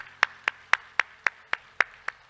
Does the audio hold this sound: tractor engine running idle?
no